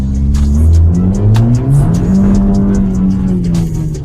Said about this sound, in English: He gets wild wheel spin.